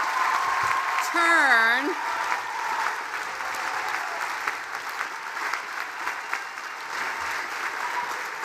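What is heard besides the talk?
graduating seniors applauding families and friends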